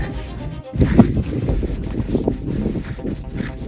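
Blustery wind by a lake buffets the microphone in a steady low rumble, with rain starting and some faint voices and movement mixed in throughout.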